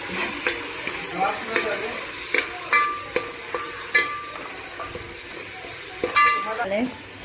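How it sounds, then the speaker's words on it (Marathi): Green masala and ginger-garlic paste sauté in a pan with steady sizzling, broken up by repeated clinks and scrapes of a spoon stirring against the metal. "हिरवा मसाला हा मसाला टाकून घ्यायचा आणि मग तो सुद्धा चांगला परतून घ्यायचा"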